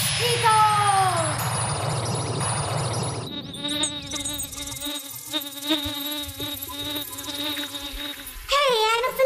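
Anopheles stephensi mosquitoes buzz as a steady high whine that shifts into layered, wavering insect tones, with speech-like voices mixed in and a brief louder burst near the end.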